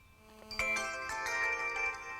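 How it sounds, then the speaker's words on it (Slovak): A phone rings with an incoming alert call from a KEETEC GPS Sniper car locator, a clear electronic ringtone starting after a short pause and sustaining its tonal melody, close and alone with no talk. "Volá ma auto, to znamená, je tu nejaký signál, že sa s autom niečo deje."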